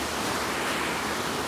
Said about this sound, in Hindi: ये पानी चल रहा है, गंगा जी है